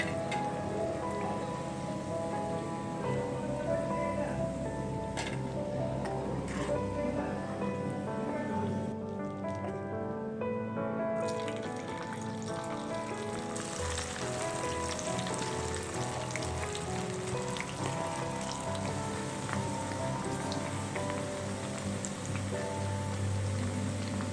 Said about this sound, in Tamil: வெண்டைக்காய் எல்லாத்தையும் இந்த மாதிரி ஃப்ரை பண்ணி எடுத்துட்டோன்னா